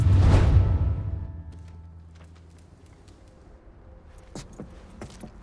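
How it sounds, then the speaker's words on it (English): A bunch of keys jangles close up in the Mafia 3 video game, a bright burst at the start that fades into a low hum, followed by a few scattered clicks and taps. "I grabbed the keys to the truck"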